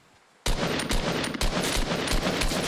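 Semi-automatic gunshots in Fortnite ring out in a loud, steady run of sharp cracks after a brief quiet start, roughly evenly spaced with some overlapping blasts.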